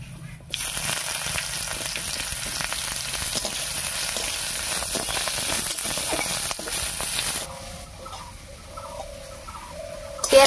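Chopped onion sizzles steadily in hot oil with crushed garlic and black cumin, a loud, even frying hiss that fades partway through, leaving quieter bubbling and a few faint background sounds.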